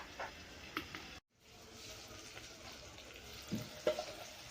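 Bell peppers fry softly in a covered pan over low heat, giving a faint steady sizzle with occasional small pops and a brief dropout.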